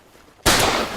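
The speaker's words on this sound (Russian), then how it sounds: "Фронтальный выстрел по прямой" A shotgun is fired at a flying pigeon during a hunt: a single abrupt, loud blast close by, its boom lingering briefly after the crack.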